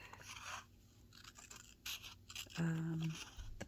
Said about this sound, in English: I might use my little orange scissors.